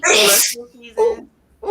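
A single loud, sharp sneeze bursts out up front, then voices talk close by right after it.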